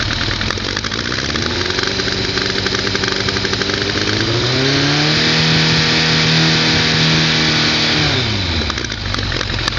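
A Kawasaki ZRX motorcycle engine with Mikuni carburetors idles, then revs up and holds around 5,000 RPM for several seconds before dropping back, loud and close throughout.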